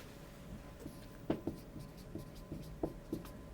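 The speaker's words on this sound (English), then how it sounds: "I'm gonna write funnels" Marker writing on a whiteboard, faint squeaky strokes and soft taps in an uneven rhythm, close by in a quiet room.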